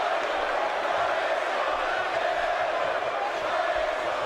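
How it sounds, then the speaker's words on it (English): A wrestling arena crowd cheers in the WWE 2K17 video game during a Roman Reigns and Bray Wyatt match, a steady, dense roar of voices that holds evenly throughout. "Here the fans, well, they are hyped up tonight"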